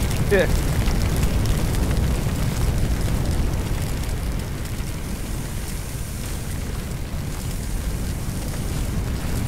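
Roaring fire in a firefighting simulator game, a dense, continuous low rumble and crackle filling the background at steady loudness, with no talk.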